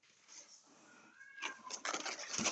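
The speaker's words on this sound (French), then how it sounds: "Monsieur Ron qui miaule." A house cat meows indoors, a drawn-out wavering cry followed by scrappier, noisier yowls, moderately close and with a faint voice underneath.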